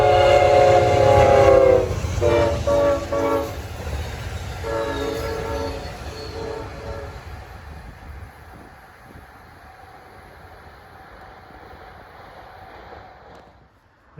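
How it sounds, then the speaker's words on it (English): An Amtrak Pennsylvanian passenger train passes close with several loud horn blasts in a broken pattern, then rumbles away, its rolling noise fading steadily until near silence. "152 is Amtrak 42, the Pennsylvanian from Pittsburgh to New York, not Philadelphia."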